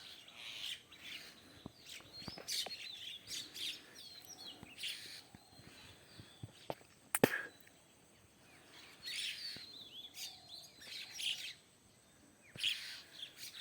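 Small birds chirp in short, high bursts by a river in rural Bangladesh, scattered and fairly faint over a soft, quiet outdoor background with an occasional knock.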